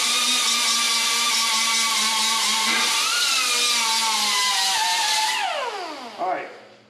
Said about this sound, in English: Just grind it down.